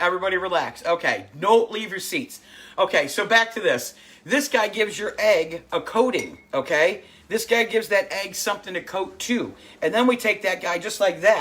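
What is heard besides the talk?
No everyday noises stand out.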